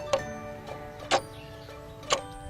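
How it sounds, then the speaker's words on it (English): A clock ticks in sharp, evenly spaced clicks about once a second, three clear ticks with fainter in-between tocks, close and alone with no talk. "It is a clock."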